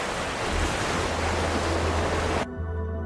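Waves lapping in the game Project Neural Cloud, a steady dense wash of surf that runs loud and unbroken, then cuts away abruptly near the end to quieter low hum.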